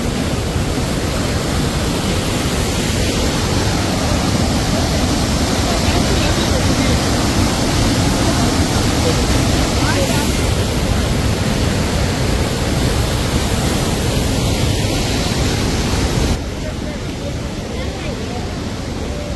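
Rushing mountain water at Kedarnath roars continuously and loudly, a dense broadband wash that stays constant for the whole stretch.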